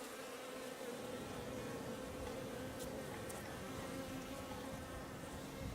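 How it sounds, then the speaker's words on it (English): Honey bees hum together in an active hive in mid February, a dense, steady collective buzz, close and fairly quiet, with no talking. "it's beginning to sound like an active hive now with the collective buzzing"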